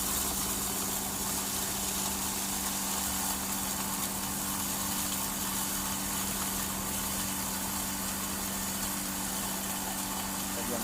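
A pepper grinding machine's engine runs steadily with a constant hum and droning tone, loud and unbroken throughout with no talk.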